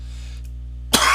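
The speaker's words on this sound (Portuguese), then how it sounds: "Com essa tosse contínua, né?" A single short cough bursts out near the end, close and loud, after a stretch of steady electrical hum with no speech.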